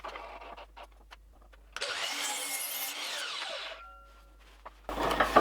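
A power saw cuts across a wooden plank, starting from the pointed end: a loud two-second rasping cut between quieter clicks and handling noise, with no talking.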